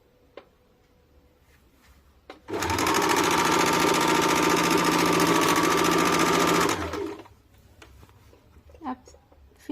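An electric sewing machine runs a steady rapid stitching burst of about four seconds along the curved seam of elastic on a loose palazzo, close and loud, with someone speaking quietly before and after.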